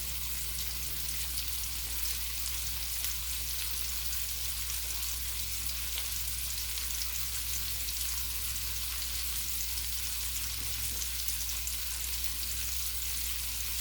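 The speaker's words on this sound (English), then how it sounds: "add the beaten eggs and quickly scramble them until they're pillowy soft" Beaten eggs scramble in a hot frying pan beside vegetables, giving a steady, dense sizzle that holds at an even level throughout with no voices.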